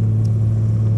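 A 1937 Maybach SW 38 Cabriolet drives along with its top down, giving a loud, steady, low engine drone with a strong constant hum, heard close with no talking.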